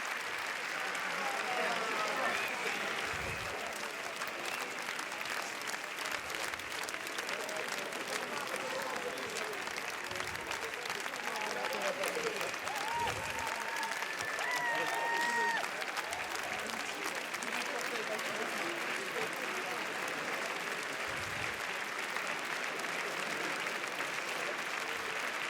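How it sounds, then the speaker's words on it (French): Long, continuous applause from a crowd greeting a film team on the Cannes red carpet, a dense outdoor wash of clapping at some distance, with scattered cheers and voices mixed in throughout. "Une équipe très applaudie."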